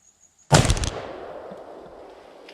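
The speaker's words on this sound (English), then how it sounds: "We're going to load it into this gun right here. And we're going to shoot that jug of rotten eggs." A single loud, close rifle shot from an 1887 lever-action rifle chambered in 70-150 WCF, firing a smokeless powder load into a 2.5-gallon jug of rotten eggs, with a sharp blast that rolls off into a long fading echo outdoors.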